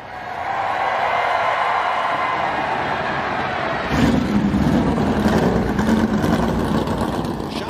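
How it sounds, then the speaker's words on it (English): NASCAR stock car engines fire up together on the grid before the Coca-Cola 600 with a dense, loud rumble. A deeper, throatier roar swells partway through as more engines catch, under crowd and broadcast noise. "Drivers, start your engines!"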